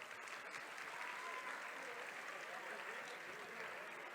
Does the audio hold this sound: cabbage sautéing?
no